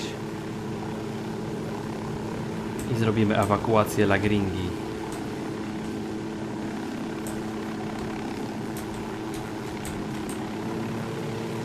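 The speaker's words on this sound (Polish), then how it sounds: "spróbujemy tu jakoś ładnie wylądować, żebyśmy jeszcze raz tego helikoptera mogli sobie użyć" A steady helicopter rotor drone hums underneath as a helicopter lands in the video game Ghost Recon Wildlands, while someone speaks briefly in Polish over a burst of radio-like chatter near the start.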